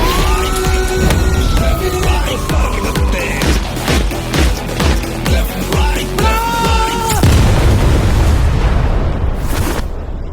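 A wailing siren rises and falls amid booming hits and dramatic music in the trailer for the Malayalam film Aadu 3, a loud, layered, cinematic mix that cuts off abruptly near the end.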